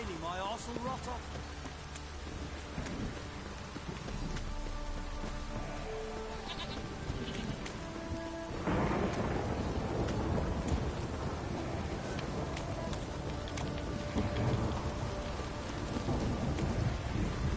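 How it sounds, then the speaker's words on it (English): Rain pours steadily in The Witcher 3, with low thunder rumbling beneath it, and a distinct bleat and other game sounds over it; the downpour swells louder partway through. "If it don't stop raining, my arse will rot off."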